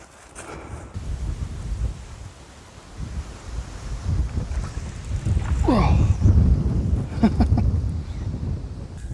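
Gusty wind over a strip-pit pond buffets the microphone outdoors, rising and falling in loud rumbling bursts, with faint voices and rustling in the background.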